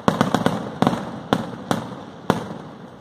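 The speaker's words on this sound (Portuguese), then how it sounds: "Não é a Queima de Fogos de Copacabana, mas dá para tirar uma ondinha" New Year fireworks and firecrackers pop in a quick, irregular series of sharp, close bangs, some tightly clustered and others spaced apart, over a faint background.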